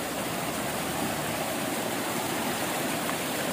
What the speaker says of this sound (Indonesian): Ini adalah sungainya.